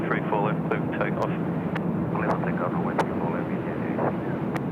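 A Vietjet airliner takes off from runway 34 left at Sydney Airport, its engines a steady broadband roar held under continuous talking.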